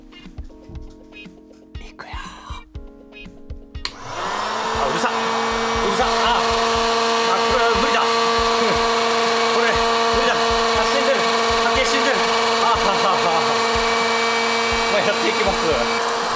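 A fully automatic popcorn machine switched on before any kernels are loaded gives a loud, steady motor and fan whir with a constant hum. It rises abruptly after a few seconds of quieter clicks and handling noises, and someone speaks briefly near the start.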